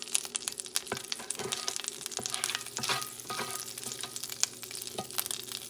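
Hoe cake batter frying in melted butter on a pan a couple notches above medium, with a steady crackling sizzle, scattered sharp pops and occasional scraping stir sounds, close and moderately loud, no talking.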